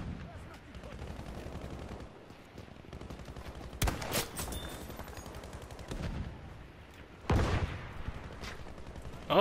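Bursts of gunfire from a cheap assault-class gun in the shooter game Battlefield V, loud and close in two or three sharp volleys over a continuous battlefield din.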